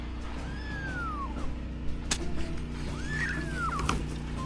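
A kitten gives two thin, rising-and-falling meows a couple of seconds apart, close by over a low steady hum.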